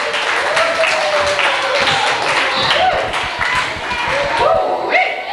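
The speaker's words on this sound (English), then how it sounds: "Round of applause." Applause from an audience at a camp gathering for children after a performance, steady scattered clapping throughout, with voices talking over it.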